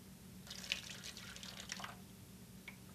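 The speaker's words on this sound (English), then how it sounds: "Go ahead and pour it right there in the funnel." Liquid is poured through a funnel for an elephant toothpaste demonstration, a faint trickling and splashing stream lasting about a second and a half, followed by a last small drip, with no talking.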